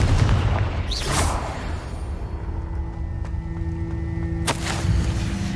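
A Confringo blasting spell goes off in Hogwarts Legacy, giving a sharp crack and boom over a steady rumbling background, with another bright blast near the end.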